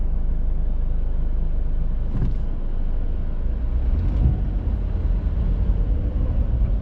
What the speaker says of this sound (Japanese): まず感じるのは発進が非常にスムーズなことです